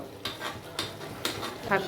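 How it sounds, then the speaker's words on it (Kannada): A spoon scrapes through chicken and masala with pepper powder frying in a pot for a home chicken curry, three rhythmic stirring strokes over a soft, close sizzle. "ಇದನ್ನು ಚೆನ್ನಾಗಿ ಮಿಕ್ಸ್ ಮಾಡಿಕೊಂಡು ಈ ಮಸಾಲೆ ಜೊತೆಗೆ ಇದನ್ನು ಫ್ರೈ ಆಗಲಿಕ್ಕೆ ಬಿಡಬೇಕು ಸ್ವಲ್ಪ ಹೊತ್ತು"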